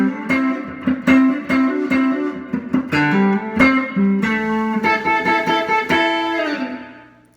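A 1971 Epiphone ET270 electric guitar with a Kent Armstrong mini humbucker, played through a 5F4 amplifier with light digital reverb and compression, picks out a melodic run of single notes and chords that rings out and fades at the end.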